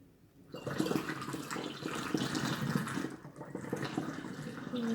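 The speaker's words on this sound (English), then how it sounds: "see if I can pour this without spilling it everywhere." Kombucha pours steadily in a gurgling stream, close and fairly quiet, starting after a brief pause and running without interruption.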